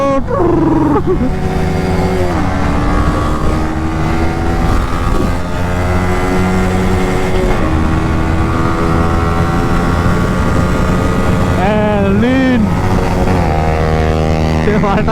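A Yamaha R15 V3 motorcycle ridden along produces a loud, steady engine drone with shifting tonal whine, rising and falling with the throttle, while people talk over it.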